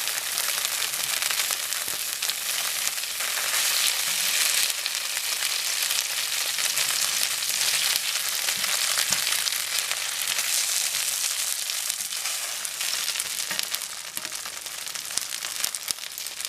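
Cornmeal mush slices frying in butter over medium heat, a dense, steady hissing sizzle that continues evenly throughout with occasional faint pops, close and fairly loud.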